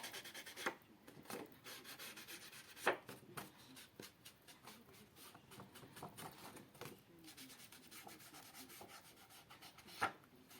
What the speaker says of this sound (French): je veux juste ancrer les bords